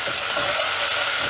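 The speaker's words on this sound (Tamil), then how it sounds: "நல்லா ஃப்ரை பண்ணி விட்டுடலாம்." Onions and tomatoes fry in a pan for a radish and egg stir-fry, a loud, dense and even sizzle heard up close for a brief moment with no voices.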